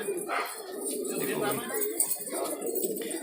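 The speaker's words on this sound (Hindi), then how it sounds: "आपको एक बार एक कबूतर पेटी खोल के बताएंगे" Pigeons coo from an opened pigeon box, soft repeated throaty coos with faint clinks and rustles, close by, and people talking nearby.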